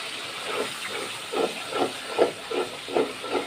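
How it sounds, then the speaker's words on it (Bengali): Potatoes and spices sautéing in a pan with whole garam masala, a soft steady hiss punctuated by rhythmic stirring scrapes about every half second, fairly quiet and without speech. "আলু মশলাগুলো ভালোভাবে কষিয়ে নিলাম"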